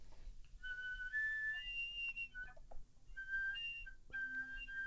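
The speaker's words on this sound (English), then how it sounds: "whistle tones really helps me to relax the embouchure and to find the center of the tone" Soft, airy flute whistle tones, a series of thin sustained high pitches stepping between notes with short gaps, played alone and fairly quiet.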